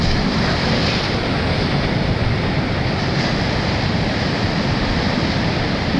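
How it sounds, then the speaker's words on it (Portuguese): Sea water breaking against rocks at low tide on a cold day along the shore, a continuous loud wash of surf with gusty wind noise on the microphone and no voices. "tô aqui num ponto onde a água quebra aqui nas pedras"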